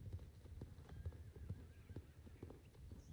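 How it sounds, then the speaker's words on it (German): Horse hooves in the Star Stable video game give a steady, rhythmic clip-clop of a horse being ridden at an easy pace. The sound is close and fairly quiet, with faint background game sound. "dann reiten wir jetzt gemütlich nach Wildale"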